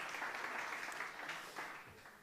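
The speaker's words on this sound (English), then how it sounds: "So a big round of applause for our panel today." Steady applause from a conference audience thanking a panel on the Sandbox Stage at South Summit 2022, a continuous wash of many hands clapping at moderate level without interruption.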